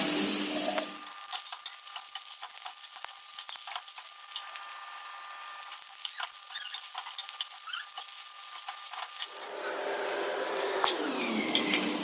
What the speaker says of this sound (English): Now fry it on high flame.